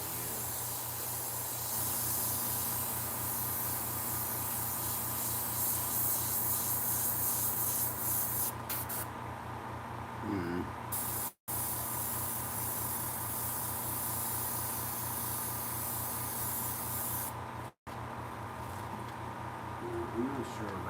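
A cheap $29 airbrush sprays in a long steady hiss at close range, with two sudden brief cutoffs and a faint voice talking underneath.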